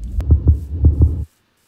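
Video game heartbeat effect: four deep, close thumps in a steady rhythm, loud and alone, preceded by a sharp click and cutting abruptly to silence.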